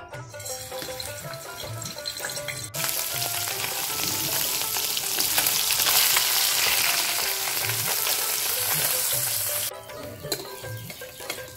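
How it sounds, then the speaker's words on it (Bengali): Puti fish fry in hot oil with a loud, dense sizzle that swells sharply once the fish goes in and holds steady for several seconds before dropping back to a gentler crackle. "তেলটা গরম হয়ে গেছে, এখন মাছটা ভেজে নেব।"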